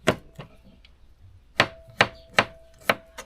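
Garlic cloves being chopped with a knife on a board for sinampalukang tuna: a couple of sharp knocks, a pause, then four crisp, evenly spaced chops up close, with no talking.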